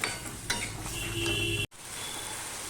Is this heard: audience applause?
no